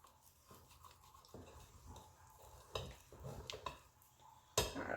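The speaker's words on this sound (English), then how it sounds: "we're gonna grab our handy dandy spatula and wipe off the sides" Spatula scraping the sides of a bowl of pumpkin spice cake batter, soft intermittent scrapes and wet swishes, close and fairly quiet, with a few sharper strokes toward the end.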